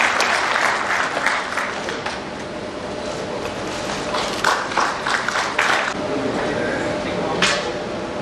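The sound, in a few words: audience applause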